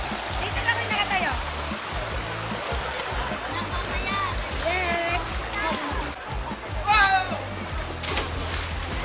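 River water rushes and splashes continuously at Taklang Anak River in Sariaya, Quezon, a dense close roar of flowing stream with bright splashy bursts, while people talk and call out over it.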